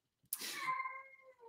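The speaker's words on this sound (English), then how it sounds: "Sorry for the cat noises." A single house cat meows nearby, one drawn-out, falling cry lasting over a second and heard alone after a brief quiet moment.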